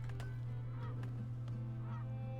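Geese honk in the Farthest Frontier game, a few short calls over a steady low ambient hum, fairly faint and without speech.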